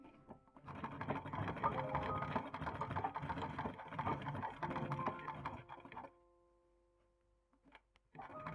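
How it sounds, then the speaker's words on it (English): A sewing machine zigzag-stitching a fabric pocket down onto a base layer as appliqué runs in a steady, fairly loud mechanical whir for about six seconds, then stops, with a brief restart near the end. "I used the zigzag stitch to sew the pocket down onto the base layer as an applique."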